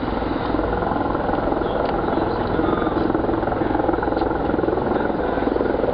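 A helicopter hovering over Montreal, a steady continuous rotor and engine drone held at an even, moderately loud level throughout with no pauses or talk.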